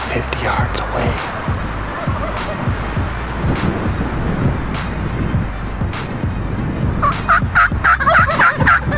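A wild turkey gobbles from its roost about 150 yards off in the northeast Georgia foothills. The distant, rough gobbles come through over steady outdoor background noise, with a cluster of calls near the end.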